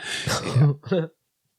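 A single throaty cough or throat-clearing, two quick bursts close up, then silence.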